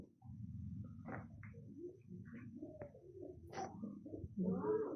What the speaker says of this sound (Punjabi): ਆਹ ਕਿਹੜਾ ਕਬੂਤਰ ਆ ਭਾਈ ਸ਼ਾਕਰ?